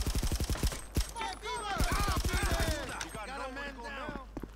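Rapid machine-gun bursts ring out in a GTA V firefight at a motorcycle club meth lab, loud and close, mixed with game character voices talking over and between the shots.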